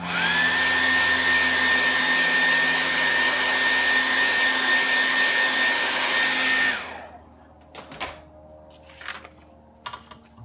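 A hair dryer blows steadily and loudly over a watercolor painting for about seven seconds with a constant whine, then shuts off, leaving a few faint taps and handling noises.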